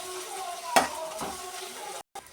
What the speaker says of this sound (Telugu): అల్లం పేస్ట్ వేసుకుని ఒకసారి అలా కలియబెట్టాలి ఫ్రెండ్స్.